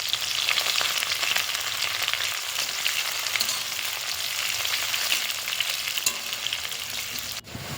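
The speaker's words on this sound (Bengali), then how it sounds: "তারপর দিয়ে দেব পেঁয়াজ কুচি। পেঁয়াজটা একটু লাল লাল করে ভেজে নেব।" Chopped onions and tempering spices fry in hot oil for a chicken curry, giving a dense, continuous close sizzle with faint stirring scrapes. A sharp knock comes near the end.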